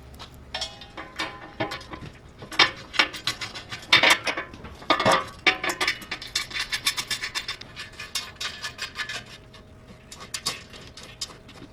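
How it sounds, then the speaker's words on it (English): Metal mounting plates being fitted to the stand of a Ricoma MT-1501 embroidery machine, with repeated close clanks, scrapes and rattles of metal parts and hardware in irregular bursts throughout. "So we're gonna install these plates"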